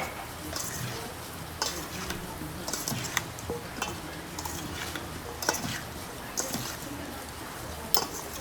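Green mango pickle being mixed with sugar and spices in a bowl, a steady, soft wet stirring with scattered light clinks of a utensil against the container, close and fairly quiet.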